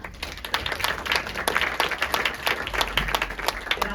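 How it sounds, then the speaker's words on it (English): Audience at a panel discussion applauding, a moderate room of clapping with distinct individual claps in a steady, slightly uneven rhythm. "So if we could give a round of applause to Sarah."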